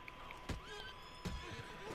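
A horse whinnies in the open world of Red Dead Redemption 2. Two sharp bursts, each with a short neigh, stand over a steady game ambience, fairly close and moderately loud.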